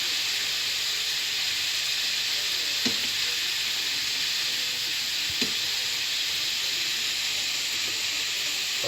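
Broccoli sizzles and fries in a hot pan with a constant bright hiss, punctuated by two soft scraping stirs.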